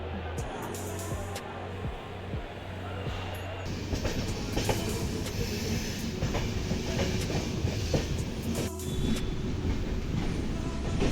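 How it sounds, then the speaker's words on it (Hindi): A passenger train runs along the rails in a continuous rumble with clickety-clack from the wheels, heard from close by or on board and growing slightly louder partway through. "गाइस अपनी ट्रेन आ चुकी है और हम अपनी ट्रेन पे चढ़ गए"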